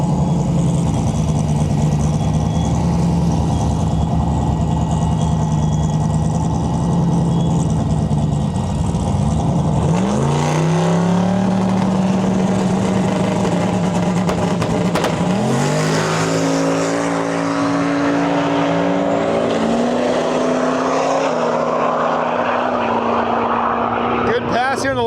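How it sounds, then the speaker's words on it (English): Twin-turbo LS-powered Pontiac Ventura drag car at a drag strip, its engine droning loudly throughout with rising revs and pitch sweeps around the middle and later, mixed with other track noise and voices talking. "In our lane here, we got a Ventura. I believe it's twin turbo LS"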